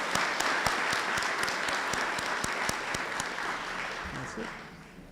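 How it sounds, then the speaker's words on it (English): A gala audience at a Global Scholars Foundation event gives sustained applause, a continuous roar of many hands with crisp individual claps cutting through, staying strong for several seconds before gradually easing off. "So let's give them a round of applause."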